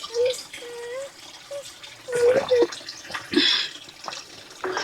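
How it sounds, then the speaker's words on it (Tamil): A thin stream of mountain spring water trickles into a can at a hillside temple, a soft intermittent splashing heard beneath a voice speaking nearby. "தண்ணி வந்து கம்மியாக தாங்க வருது, நம்ம கேனில் பிடிச்சி குடிக்கிற மாதிரி இருக்குது."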